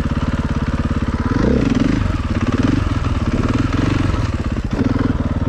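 A KTM EXC450 dirt bike engine runs loud and close with a steady throbbing beat, rising briefly as the throttle is opened and the clutch is let out, then settling back.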